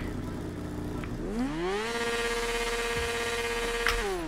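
A BMW S1000RR 1000cc motorcycle in GTA 5 idles, then revs up into a rising, sustained high whine that holds steady, heard close and alone.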